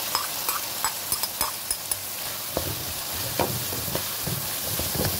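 Ground beef sizzling with bitter gourd (ampalaya) in a pan, a close steady fry hiss broken by repeated scraping stirs and clacks of a utensil, no voices.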